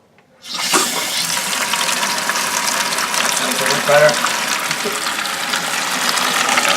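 A newly installed toilet tank filling with water after the supply is turned on, a loud steady rushing hiss that starts abruptly and continues without pause.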